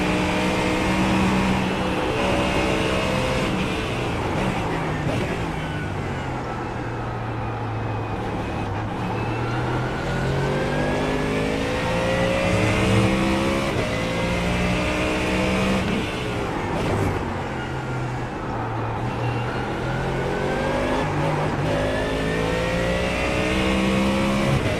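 Ford Mustang GT3 race car engine in a racing simulator at Daytona, loud and continuous, revving up and down through gear changes with rising and falling pitch sweeps, no talking.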